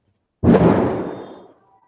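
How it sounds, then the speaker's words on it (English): A single firework bursts outside with a sharp boom that decays over about a second, then silence returns. "The fireworks,"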